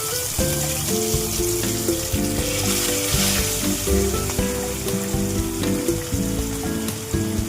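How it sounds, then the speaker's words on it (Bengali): Bhetki fish bones frying in hot oil give a loud, close, continuous sizzle and crackle, with occasional bubbling pops, unbroken throughout and free of talk. "গরম হয়ে গেছে, আমি এক এক করে কাঁটাগুলো দিয়ে দেবো।"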